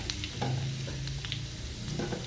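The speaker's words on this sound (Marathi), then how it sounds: "तेलात आपण आता जिरे टाकून घ्यायचे आहे. जिरे टाकल्यानंतर कढीपत्ता टाकून घ्यायचा आहे." Cumin seeds and curry leaves sizzling in hot oil in a kadhai, a steady close crackle and hiss with small pops and light stirring.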